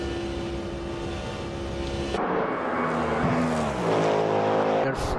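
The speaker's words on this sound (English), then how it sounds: "Beautiful sounds from the Cadillac." A Cadillac hypercar in the Automobilista 2 racing game screams at high revs, then shifts down into a louder, lower roar with falling and rising pitch, and tire noise near the end.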